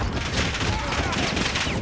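Rapid gunfire in the Warzone shooter on Rebirth Island, a dense crackling fusillade that runs continuously and loudly through the short stretch, with no voices.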